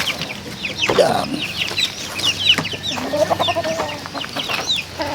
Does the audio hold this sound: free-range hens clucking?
yes